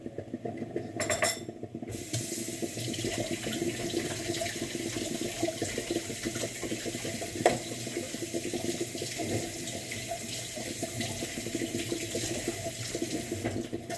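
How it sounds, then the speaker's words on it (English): Cold water runs from a kitchen tap in a steady, continuous splash as leftover green onions are rinsed under it, with a faint clink near the start. "I just like to try and perk them up with some nice cold water."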